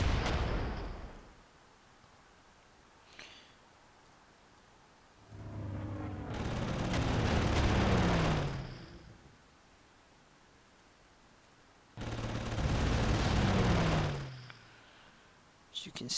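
Three separate heavy rumbling bursts of gunfire in the wartime strategy game Panzer Corps, each a loud noisy blast lasting a couple of seconds with a falling whine, separated by quiet stretches.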